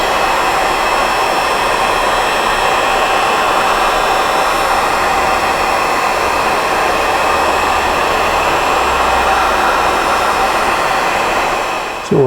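A heat gun blows hot air on the inner timing cover of a 1983 BMW R100RS, a loud, steady, close whooshing roar that holds unbroken and then cuts off at the end.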